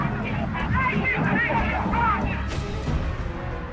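A frightened crowd panics after a gunshot aimed at the president, a loud, dense mix of shouting voices and commotion with a sharp crack near the end.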